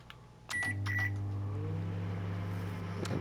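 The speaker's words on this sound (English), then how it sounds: "pop those in the microwave" In the game Metro Sim Hustle, a microwave heating sausage and pasta starts up after a few button beeps, settling into a steady low electric hum with a faint closing click near the end.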